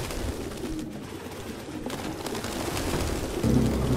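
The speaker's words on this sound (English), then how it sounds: "No human could live with all these fucking pigeons." Pigeons coo in Detroit: Become Human, steady soft cooing and bird calls within a continuous hushed indoor ambience, with no talking.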